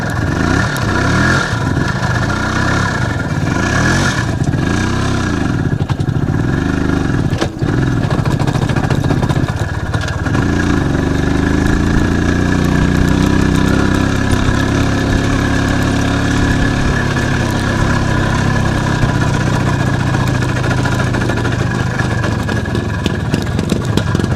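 An Izh Planeta 5 motorcycle engine runs loud and close throughout, a steady throbbing idle that shifts in pitch around the middle as the revs change.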